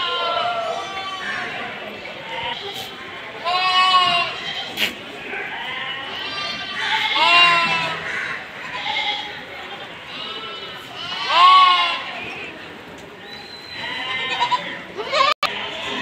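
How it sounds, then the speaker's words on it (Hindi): Small rams bleating at a crowded livestock goat market, loud repeated bleats from several animals close by, overlapping with people talking and general market bustle. "जो मेंढे हैं ये छोटे छोटे।"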